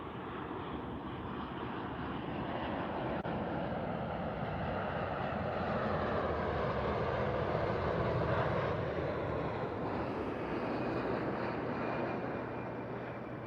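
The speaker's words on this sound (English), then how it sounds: "United Dreamliner coming in from Shanghai," A United Boeing 787-9 Dreamliner arriving from Shanghai passes as a broad jet roar that swells toward the middle and then eases off. It is moderately loud with some wind buffeting and no voices.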